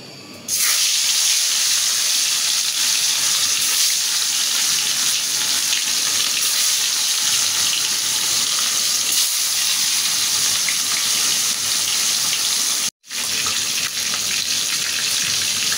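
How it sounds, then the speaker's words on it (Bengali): Snakehead fish, rubbed with turmeric and chili powder, fries in hot oil, a loud, dense, continuous sizzle that rises sharply as the fish goes in and holds steady, broken by one brief silence. "তেলটা গরম হয়ে গেছে, এখন আমি মাছটা দিয়ে দেব।"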